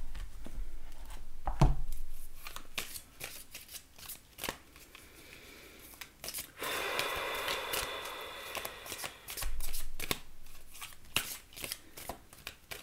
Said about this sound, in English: All right, let's read an oracle card for you.